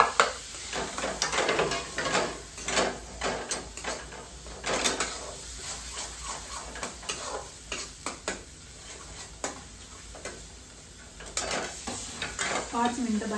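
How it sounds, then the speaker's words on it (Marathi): Masala paste for matar paneer, with coriander powder, chilli powder and paneer masala, cooks in a pan on a low flame, with steady sizzling under frequent close scraping and stirring of a spoon against the pan. "पाच मिनिटं बारीक गॅसवरती वाटण आपण चांगल्या प्रकारे शिजवून घेऊया"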